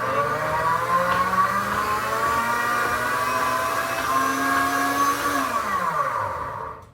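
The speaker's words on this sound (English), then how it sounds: "So I just turned that to a heated puree function and let it do its thing." A food processor on a heated puree setting whirs steadily at close range, its motor hum holding an even pitch before winding down and stopping near the end.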